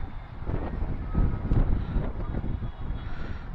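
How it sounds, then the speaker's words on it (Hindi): Strong wind buffets the microphone in steady, loud gusts that swell around the middle, with a low roar filling the clip while riding a Yamaha YZF R15 V3 motorcycle. "क्या हवा चल रही है, आप लोग हवा देख सकते हो यार"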